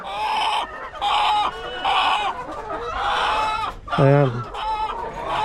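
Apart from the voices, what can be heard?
chickens clucking in a coop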